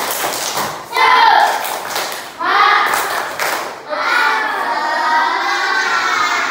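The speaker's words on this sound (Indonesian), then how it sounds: "Tepuk satu. Tepuk semangat." A class of children claps in a rhythmic chant, loud grouped bursts of hands separated by short pauses, their voices chanting along close by.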